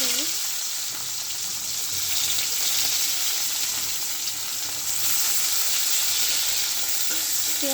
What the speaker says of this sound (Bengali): পেঁয়াজ দিয়ে দেবো